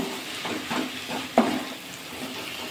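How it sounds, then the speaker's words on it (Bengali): Red amaranth leaves with a spoonful of sugar are stirred in a frying pan, a soft steady sizzle under a few scraping strokes and one sharp clink of the spoon against the pan. "ছাড়ছিল চিনি দিয়ে আবার একটু নাড়াচাড়া করে নিলাম"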